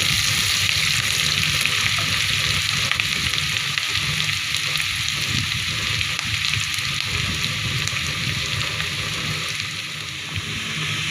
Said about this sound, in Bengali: এখন এটাকে ব্রাউন কালার হয়ে যাওয়া পর্যন্ত আমি ভেজে নেব।